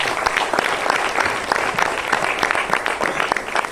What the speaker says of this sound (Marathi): त्या व्यक्तीसाठी एकदा जोरदार टाळ्या वाजवा.